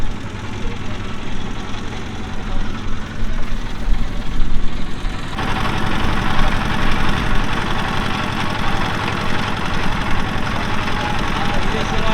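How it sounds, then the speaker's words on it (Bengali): A motor boat engine chugs steadily on the Padma river near the India-Bangladesh border at Char Sarkarpara during the monsoon, a loud close knocking drone that grows fuller partway through, with a voice talking over it. "এভাবে নৌকা এ করে ঘুরছি"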